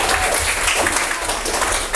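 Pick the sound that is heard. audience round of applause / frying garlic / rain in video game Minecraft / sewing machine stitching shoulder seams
audience round of applause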